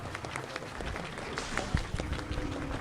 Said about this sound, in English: let's give a huge round of applause for our speakers.